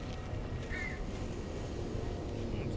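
Crows caw in Alan Wake Remastered, a single short call rising briefly over a steady, dense game ambience with faint talk nearby.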